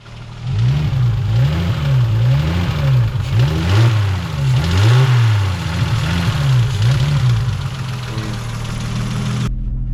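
A turbocharged 2JZ engine in a Lexus GS300 build with a burnt wastegate hole revs up and down repeatedly, a loud close rising and falling engine roar that ends with a sudden cutoff.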